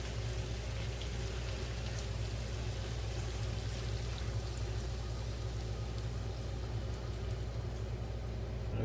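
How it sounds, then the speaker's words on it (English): Coconut milk pours steadily into tomato sauce for tandoori chicken, a continuous even rushing splash close by that holds at a constant level for the whole stretch with no talk. "We add the coconut milk."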